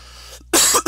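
A single short cough from a man on a live podcast stream, sharp and close to the microphone, preceded by a brief softer throat sound.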